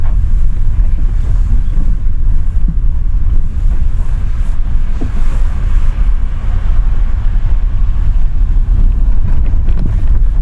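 A mountain stream at about 12,300 feet in the Himachal Himalaya, its flowing water crusted with ice crystals, heard as a loud, continuous rushing roar with heavy wind buffeting the microphone.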